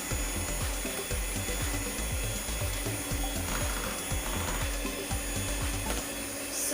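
Cream being whisked by hand for homemade vanilla ice cream, a steady rhythmic series of close scraping and tapping strokes against the bowl, continuous throughout with no voices.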